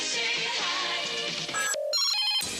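Telephone ringtone played as a sound effect on a live local radio call-in sports talk show, a loud electronic ringing with a sharp tonal pattern that cuts off and restarts near the end.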